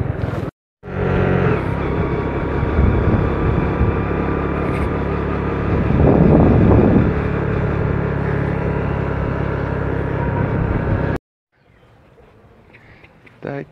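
A Jakarta motorbike taxi ride in Senegal, a steady close engine drone with road rumble and a brief rev swell midway, cutting off to quiet street ambience near the end.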